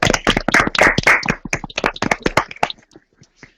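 A French game-show studio audience claps for a team of contestants, a brisk patter of hands that thins into scattered claps and fades to near silence at the end.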